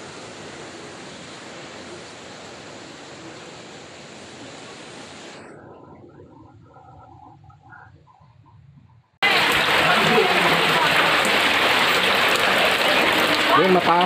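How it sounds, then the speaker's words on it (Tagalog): Heavy typhoon rain with rushing floodwater near a river wall, a steady loud hiss that fades for a few seconds and then returns harsher and louder. "Maraming pag-ulan to."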